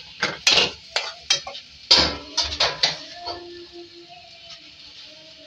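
Metal spoon clattering in a pan while chicken liver is stirred with lemon juice and garam masala: a string of sharp scraping knocks for about three seconds, then quieter sizzling with faint clinks.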